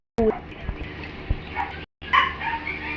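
A family dog barks and whimpers nearby in a home, with short yips and whines standing out over a person talking, cut by a brief silent gap.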